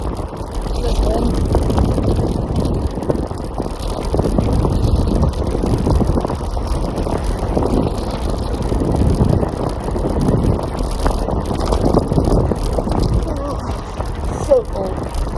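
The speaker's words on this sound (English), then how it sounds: "My ears are like being straight blasted by wind." Wind buffets hard against a rider on a Segway e3 pro scooter moving at about 32 km/h on a cold day after rain, a loud continuous gusty rumble throughout, with a voice talking over it.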